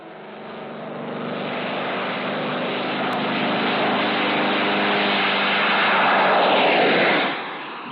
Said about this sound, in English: Jet-assisted takeoff.